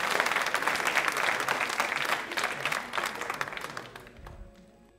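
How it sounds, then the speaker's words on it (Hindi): A quiz show studio audience applauds loudly for a contestant, a thick, continuous wash of clapping that holds strong for about four seconds before tapering off. "मानसी राहत तो देगी ही, तालियां बजाइए जोरों से।"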